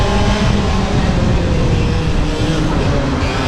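Racing karts accelerating at a race start, a loud, dense, rough engine roar that stays steady throughout.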